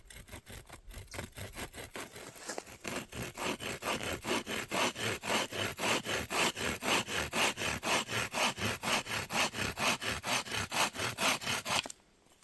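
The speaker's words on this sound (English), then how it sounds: "Cut the end of this spindle off right here, because I need a little bit more flatness on the top there." A hand saw cuts through the end of a wooden spindle for a pump drill, with steady rhythmic back-and-forth rasping strokes, close and loud, speeding up slightly before stopping abruptly at the end.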